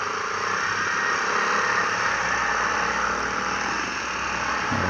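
A KYMCO Agility Eco 125 scooter engine drones steadily beside a Yamaha Aerox, a continuous whirring hum mixed with heavy wind and traffic noise.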